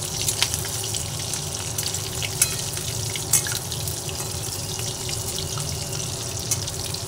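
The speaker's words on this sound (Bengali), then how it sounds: "কোপ্তাগুলোর একটা দিক উল্টে দিলাম" Soybean koftas sizzle and crackle in hot oil as they are turned, a steady broadband hiss with a few sharp pops and splutters throughout, close and fairly loud, with no voices.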